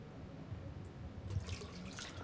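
Water trickles and splashes in The Long Dark, a faint running stream that grows slightly brighter and busier partway through, with no voices.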